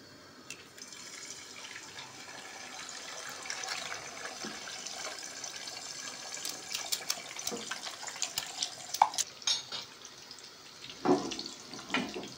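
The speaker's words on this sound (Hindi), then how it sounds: "तीनों अंडे मैंने एक साथ डाल दिए हैं। बड़े फ्राई पैन का यही फ़ायदा है जी, तीन तीन अंडे इकट्ठे फ्राई कर लो।" Three eggs fry together in a large frying pan, giving off a steady, fairly quiet sizzle with scattered pops and crackles that grow busier toward the end, with no talking.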